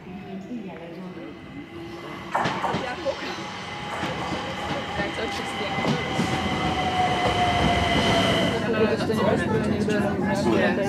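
A train runs past in London with a loud rumbling roar and a high metallic wheel whine that builds toward the end, while people talk nearby.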